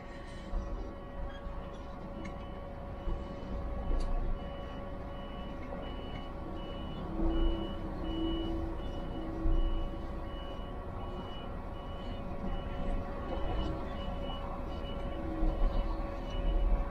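A truck's reversing alarm beeps repeatedly at a steady rhythm as it backs into a tight parking spot, the tone riding over a low idling engine rumble at moderate distance.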